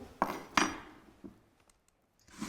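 Whisk or spoon clinking against a bowl while egg whites are stirred with sugar: two sharp clinks, then a softer tap and a few faint scrapes in a quiet kitchen.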